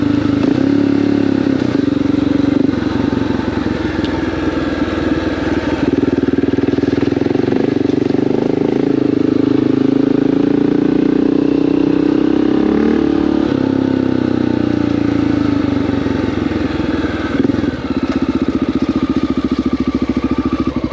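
Honda XR650L dual-sport motorcycle engine running while riding, a loud, steady single-cylinder drone with mechanical clatter and rumble that holds without pause and rises and dips slightly in pitch, with no talk over it.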